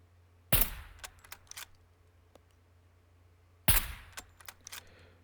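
Two sharp .22 rifle shots in the survival game SCUM, spaced about three seconds apart, each a loud crack followed by a short clattering tail and a quiet gap.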